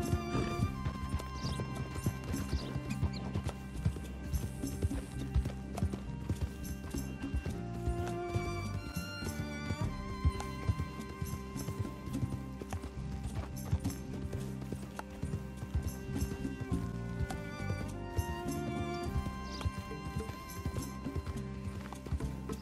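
A horse is ridden in Red Dead Redemption 2, its hooves clip-clopping in a steady rhythmic trot throughout, close and clear over a layer of game music and ambience.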